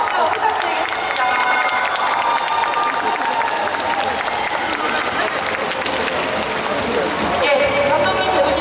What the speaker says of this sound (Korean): 정민 배우님, 차승원 배우님, 김신동 배우님, 신성규 배우님, 정성일 배우님까지 모두 뜨거운 박수 부탁드리겠습니다.